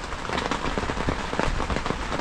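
Rain patters steadily and densely on a hard surface while camping in the woods, close and even throughout, with no voices.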